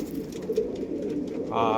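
Pigeons, a male and a white female, coo softly and close by, with a low throaty murmur across the short moment and someone speaking over it.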